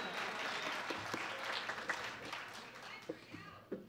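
A comedy show audience applauds a performer's wife, a soft and somewhat distant patter of clapping mixed with crowd murmur, with a few sharper individual claps standing out.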